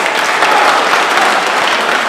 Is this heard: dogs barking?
no